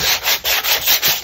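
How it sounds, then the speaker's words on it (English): Rhythmic hand sanding of an old painting canvas, a dry rasping scrape repeated in quick back-and-forth strokes, close and fairly loud with no voices. "I advise to give it a sanding"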